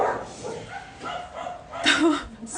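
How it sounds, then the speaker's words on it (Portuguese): Dog barking in short excited yips and whimpering bow-wows, several bursts in a row at moderate distance, with a person's voice mixed in. "vocês acham que o cachorro tá latindo de bravo"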